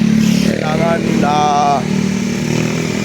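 A motorcycle with a cut throttle cable, pulled in for repair during a ride to a fiesta in Bailen, Cavite, runs nearby with a loud, steady engine tone and brief revving, under overlapping talk.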